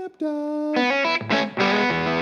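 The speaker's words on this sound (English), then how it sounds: "I got a little bit of that reverb happening, if you're wondering, because the Royalist doesn't have reverb, but the new Imperial, Tone King Imperial preamp" An electric guitar plays through a Tone King Imperial preamp with reverb, a loud held note followed by a quick run of bright, sustained notes that ring and trail off into reverb.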